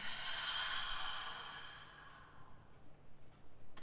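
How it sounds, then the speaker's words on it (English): A single long, breathy exhale during seated yoga breathing, loud and close at first, then fading after about two seconds into quiet, soft breathing. "Exhale with sound"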